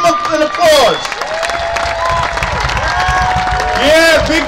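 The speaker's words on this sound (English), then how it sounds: "Give him an applause." A crowd at a Special Olympics event applauds and cheers loudly for a long-time participant, with whoops and a speaker's voice over the clapping.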